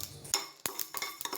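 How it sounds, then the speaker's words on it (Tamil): Mustard seeds frying in hot oil in a pan, making a few faint, sharp pops and crackles scattered irregularly over a brief moment, with no talking. "கடுகு அப்படியே வெடிக்கிற சத்தம் கேட்கும்."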